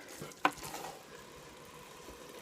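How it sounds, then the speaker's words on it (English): Chili with chili powder, cumin, cinnamon and cocoa powder being stirred into browned meat and onion, with one sharp scrape of the spoon against the pan near the start, then a steady low sizzle. "So just kind of keep giving it a stir."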